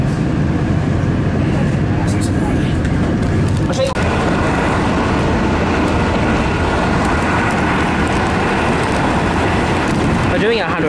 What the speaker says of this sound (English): Now this train will run express through to Lara.